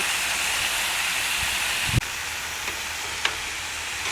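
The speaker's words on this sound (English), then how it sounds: "Beef fajitas on a flat grill cook real fast." Beef fajitas sizzle on a hot flat grill with a steady, loud hiss of frying, broken by a couple of faint clicks and scrapes.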